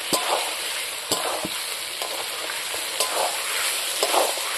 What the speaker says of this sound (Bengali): আলুগুলো আমি এখন দিয়ে দেবো।